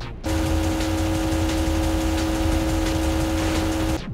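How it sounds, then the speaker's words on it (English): Opponent car engine in Rockstar's first racing video game, a steady loud synthetic mid-pitched drone holding a constant hum throughout as the car passes close by, no voices. "he was approaching from my right, but I heard his engine from the left"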